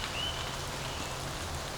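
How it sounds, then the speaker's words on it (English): Steady rain patters continuously in a sunlit forest, a soft even hiss of drops on leaves and ground with a faint bird note near the start. "it's raining and we have a bright sunshine in the forest"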